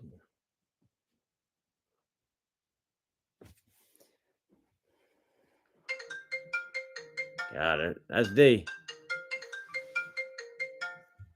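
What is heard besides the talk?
mobile phone ringtone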